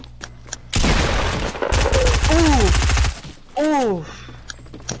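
Bursts of automatic gunfire in Fortnite Battle Royale, loud and close, with rapid repeated shots in two long volleys and a shorter burst, mixed with game sounds and some voice.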